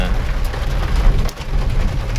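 Heavy rain falls in the Western Ghats mountains, a steady, loud hiss of drops pattering on surfaces with no voices, continuous throughout.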